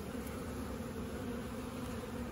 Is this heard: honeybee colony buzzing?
yes